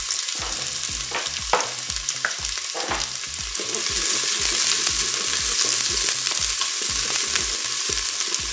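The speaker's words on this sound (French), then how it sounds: "l'huile est chaude, enfin, le préchauffage est terminé. On va mettre les oignons." Onions sizzling and frying in hot oil inside a Cookeo multicooker, a steady close crackling hiss with repeated stirring scrapes throughout, growing slightly louder midway.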